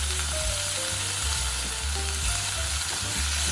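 Thinly sliced pork sizzles in a little vegetable oil in a pot for ramen, a steady loud frying hiss with soft stirring scrapes and no voices.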